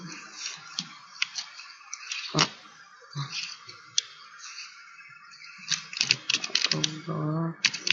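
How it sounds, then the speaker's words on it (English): Someone types an email address on a computer keyboard: soft, irregular clusters of key clicks with short pauses, close and fairly quiet, growing busier near the end. "Now I'm gonna type email."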